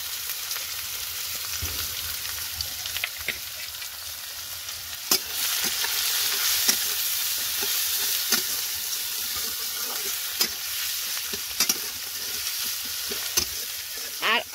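Cardamom, cloves, dried chili, chopped onion and garlic fry in hot oil with a bright, steady sizzle, punctuated by scattered scrapes and taps of stirring.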